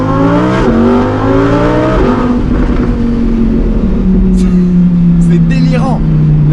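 A Lamborghini Huracan Performante V10 climbs quickly through its revs with a loud, rising howl, drops sharply at a gear change and then drones lower, while someone talks over it.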